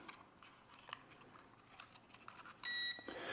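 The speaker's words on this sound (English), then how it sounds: "you spin it 3 times and it beeps" Eachine E520S GPS drone sounds a short electronic beep during compass calibration, a bright sustained tone near the end following faint handling clicks and rustles.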